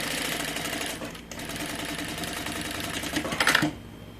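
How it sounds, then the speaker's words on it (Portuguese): Sewing machine stitching a zipper onto the top of a large bag, running in a steady, loud mechanical whir with a brief pause near the start and a louder rattling surge just before it stops. "Agora, você vai costurar aqui na parte de cima, esse zíper."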